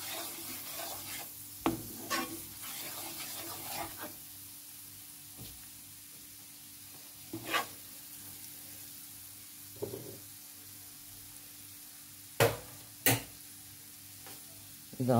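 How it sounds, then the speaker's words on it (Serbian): A spoonful of flour frying in a pan for a meat and vegetable roll tomato sauce, with a faint steady sizzle punctuated by scattered sharp scrapes and clinks of stirring. "Sipam kašiku brašna i to ću fino da propržim."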